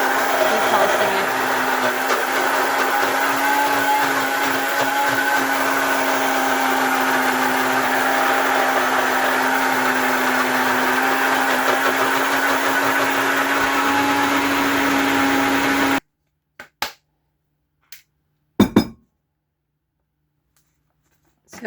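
A blender pulses a hot dog with broth into a smooth puree for a dysphagia diet, a loud steady whirring motor running continuously for about sixteen seconds, then cutting off into silence broken by a few brief knocks.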